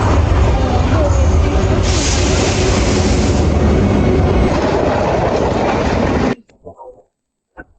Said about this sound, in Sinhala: අනුරාධපුරයට ටිකට් අරගෙන අපි දෙන්න මේ බලන් ඉන්නේ ට්‍රේන් එක එනකම්.